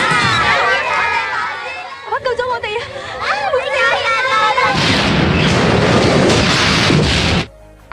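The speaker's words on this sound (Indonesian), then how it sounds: "bom tetap meledak dan menghancurkan bis itu" A film bomb blast destroys a bus with a loud booming roar and crashing debris. It follows shouting voices and a tense scene, then cuts off abruptly.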